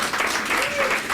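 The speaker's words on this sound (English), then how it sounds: "They're clapping for abortion." A roomful of people applauding at a political event in New York, a dense, steady clapping wash at moderate volume for just over a second, with a voice briefly over it.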